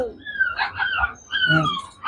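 An Alsatian dog at a crowded dog market in a fair setting gives short whimpering yips, close by and mixed in with people talking nearby.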